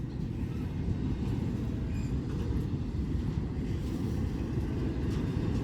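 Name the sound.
Norfolk Southern train passing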